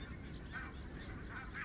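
Barnacle geese in a field on a nature reserve, giving a few faint, distant honks over a low steady rumble.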